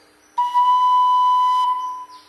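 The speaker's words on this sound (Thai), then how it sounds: "มือบนเปิดนิ้วนางก็คือเสียงเร" A Thai khlui lip flute sounds a single sustained Re, a pure, steady whistling tone that starts cleanly, holds for over a second, then stops, played alone close up.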